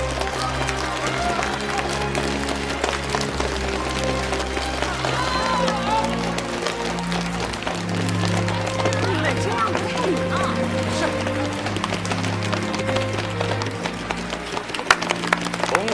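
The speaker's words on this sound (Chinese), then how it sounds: "同学们敲鞋的声音" Students in a hall applaud a speech by Li Dazhao in Tianjin by knocking their shoes together, a dense, irregular wooden clatter that runs on steadily over a low sustained musical backing.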